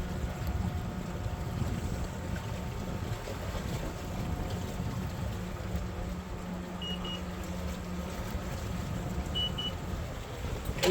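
An Excess 14 catamaran under sail in wind on the Bay of Biscay, steady rushing wind and water noise with a low hull drone and two faint electronic beeps, no talking.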